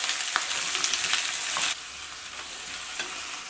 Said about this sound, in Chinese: 快速翻炒均匀